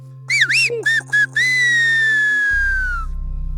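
Silbo, a whistled language, is whistled in a quick run of short rising and falling notes followed by one long, loud, slowly descending whistle, close and clear over a low hum.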